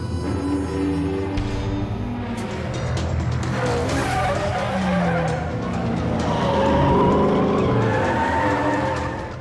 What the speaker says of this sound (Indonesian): dua buah mobil Toyota GT 86 berwarna merah dan hitam yang lagi melakukan balapan